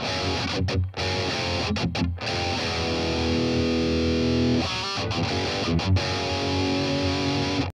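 Heavily distorted electric guitar through a BOSS Katana MK2 amp with plate reverb, set for a classic album tone, plays sustained chords and riffs, with echoing delay repeats trailing after each phrase; brief pauses break the playing.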